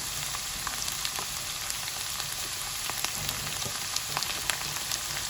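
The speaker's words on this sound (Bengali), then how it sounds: "আর মটরশুঁটি দিয়ে ভেজে উঠিয়ে নেব সবজিগুলো।" Cauliflower, capsicum and peas frying in a pan, a fairly quiet, steady crackling sizzle with scattered small pops, close and uninterrupted, no voices.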